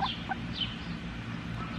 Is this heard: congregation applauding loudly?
no